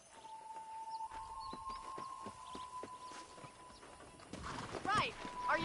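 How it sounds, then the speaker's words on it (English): Horse hooves clip-clop and a brief neigh from a mount in the Western video game Red Dead Redemption, set over a steady tonal hum, with game voices talking across the clip. "Let's go mount the horse."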